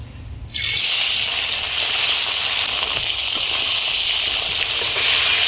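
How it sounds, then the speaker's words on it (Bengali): Dhela fesha fish drop into hot oil in a wok and set off a sudden, loud, steady frying hiss. It starts after a brief quieter moment and roars on without a break. "তো বন্ধুরা প্রথমে কিন্তু আমি ঢেলা ফেসা মাছগুলোকে ভেজে নেব।"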